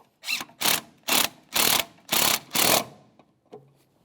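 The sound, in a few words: ratchet tightening brake master cylinder mounting nut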